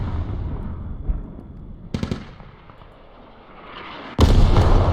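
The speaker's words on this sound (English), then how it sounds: "Artillery strike, possibly from 612M to wipe out the remaining infantry on the southwest side of the NORAD ground station" An artillery strike in a video game: several dull, booming explosions and sharp cracks land in short bursts, ending in a loud, sustained blast and rumble, with no voices.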